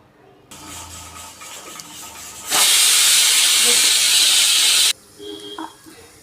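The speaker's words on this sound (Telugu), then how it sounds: "మూడు విజల్స్ వచ్చాయి" A pressure cooker of veg biryani lets out a loud, sustained steam whistle, a single harsh hiss lasting about two seconds that starts and stops abruptly against quieter kitchen background.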